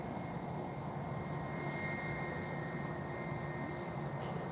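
A Vueling Airbus A321 jet departs Lisbon Airport bound for Spain, its engines a steady, broad roar that holds level and unbroken throughout.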